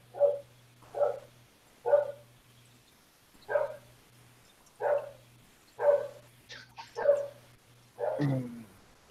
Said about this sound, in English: he's barking at some dog on the other side of the fence